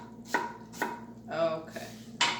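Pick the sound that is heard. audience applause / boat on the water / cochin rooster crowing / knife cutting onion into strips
knife cutting onion into strips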